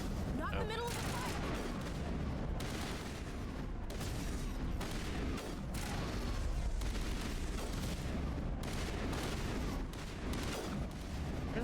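Rapid, dense bursts of gunfire from the Mass Effect video game, played in Legendary Edition, crackle steadily throughout with booming blasts mixed in, while a player talks over the combat.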